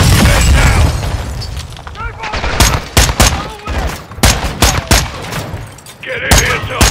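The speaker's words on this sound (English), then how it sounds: "RPG!" An RPG rocket attack in Call of Duty Modern Warfare 2 during a fight in Chicago: loud, close, rapid gunfire bursts and sharp cracking blasts, with a boom-like impact and shouting voices in the chaos.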